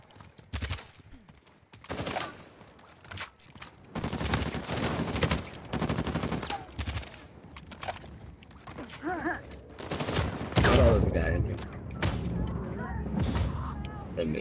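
Rapid bursts of gunfire and automatic weapon fire in a Command & Conquer shooting video game, loud and irregular, with voices talking over the shots throughout.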